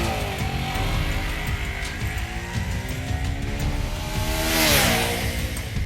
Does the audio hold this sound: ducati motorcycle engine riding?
yes